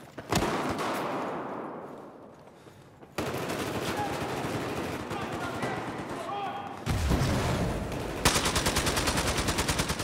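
Rapid automatic gunfire from a weapon in Battlefield 4 rattles in dense, loud bursts, with several sustained strings of shots over game ambience, close and dominant, with no talking.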